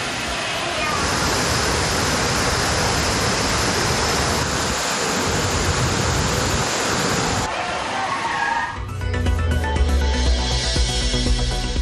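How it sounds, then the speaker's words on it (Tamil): Thirparappu falls in Kanyakumari roars steadily as a thick, loud wall of rushing water. Near the end, background music rises over the torrent. "ஆக்ரோஷமாக பாயும் அருவியில் ஆனந்தமாக நீராடி மகிழ்ச்சி."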